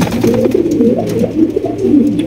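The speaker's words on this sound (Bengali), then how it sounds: "রয়েছে আরো এক জোড়া লাহোরি কবুতর" A pair of Lahori pigeons coo in low, throaty, rolling repeated calls, close and loud, with no speech over them.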